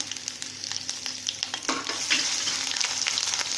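Garlic, ginger, green chili and curry leaf paste frying in hot oil, a steady close sizzle with scattered crackles and stirring scrapes that grow louder and denser partway through, with no talking.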